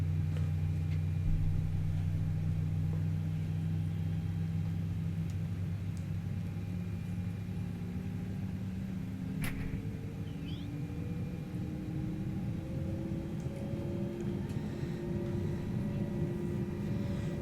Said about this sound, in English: let's listen to this engine start up here real quick